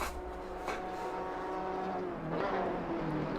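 A GT4 race car in Assetto Corsa Competizione works through the Bus Stop chicane at Spa, its engine note rising and falling with the direction changes, heard alone at moderate level.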